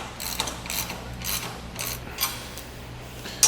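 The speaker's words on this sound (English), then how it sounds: "Then when we get this centered up, we can begin tightening down these bolts." A ratchet wrench with a 9/16 inch socket tightens bolts on a boat trailer during assembly, producing a steady series of rhythmic ratcheting clicks in repeated strokes over a low hum.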